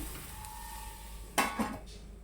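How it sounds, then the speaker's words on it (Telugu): Curry being stirred in a pan after salt goes in, with a steady low cooking hiss and two short scraping strokes of a spoon late on, no voices. "ఇప్పుడు ఇందులో కర్రీకి తగినట్లుగా ఉప్పు వేసేసుకుందామండి ఒకసారి కలిపేసుకొని మళ్ళీ ఒక ఐదు నిమిషాల పాటు ఉడికించుకుందాము"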